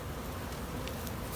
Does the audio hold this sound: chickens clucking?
no